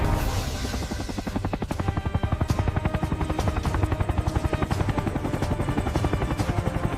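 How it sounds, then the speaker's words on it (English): A military helicopter's rotor thumps in rapid, even pulses over a loud turbine whine, sustained and close throughout. "these helicopters dominate the battlefield like no other"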